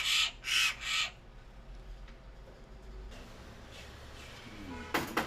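A Eurasian jay at a bird rescue gives three harsh, rasping calls in quick succession, then quieter background noise, with another short burst of harsh calling near the end.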